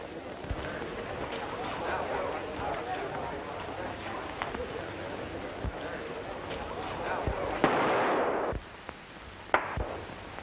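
Sharp gunshots crack out in a 1936 western shootout, several scattered shots over a crackly old soundtrack with talk and commotion, one loud blast near the end standing out.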